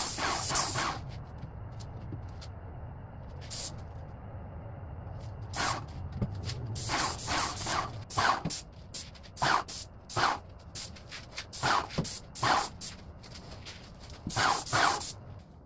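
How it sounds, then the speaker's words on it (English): Spray gun applying an epoxy finish coat to a vintage desk, bursts of hissing spray in short repeated passes, some brief and some longer, close and loud against a quiet room. "Instead of just misting the furniture, I'm holding the gun closer and moving my arm slower so that I get thicker coverage"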